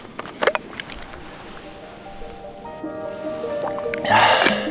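Water sloshing and gurgling as someone drinks from a 1.5 litre Nalgene bottle on a snowy mountain summit, with faint liquid squishes followed by a louder burst of splashing near the end.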